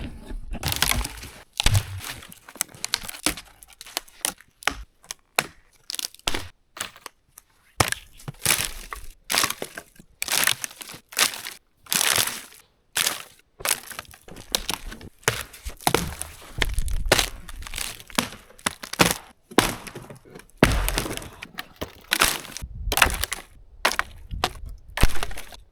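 Dry fallen pine branches snapped and broken by hand for a winter campfire, a long series of loud close cracks and splintering crunches in irregular bursts, with brief pauses and rustling between breaks.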